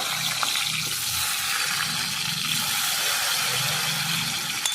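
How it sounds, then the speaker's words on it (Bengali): Chopped tomatoes frying in a pan for a Bengali mrigel fish curry, a loud continuous sizzle with occasional stirring scrapes throughout, no talking. "টমেটোগুলো আগে আমি একটু লাল করে ভেজে নেব"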